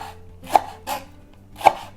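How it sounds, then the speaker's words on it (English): A knife slicing leeks thinly on a cutting board, three crisp separate chops spaced unevenly over a faint low background, close and alone. "make these slices really thin"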